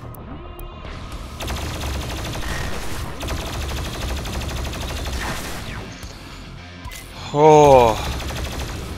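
A chain gun fires in rapid sustained bursts in Doom Eternal, in the Blood Swamps level, amid game effects. A brief voice cuts in and a loud tonal game sound rises near the end.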